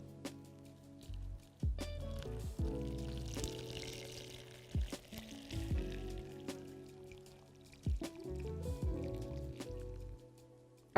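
Boiled water is poured over leaves with honey, a soft close trickle and splash in several short bursts with quiet pauses between.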